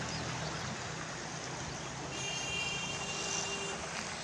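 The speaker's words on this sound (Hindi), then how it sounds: "पानी वेखो कितनी स्पीड नाल जा रहा है।" Fast-flowing water in a large, deep canal, a broad steady rushing roar heard continuously and fairly distant, with no talk.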